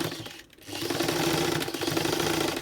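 A sewing machine stitching a bodice neckline, running in a steady close hum with a brief pause near the start, then continuous mechanical whirring.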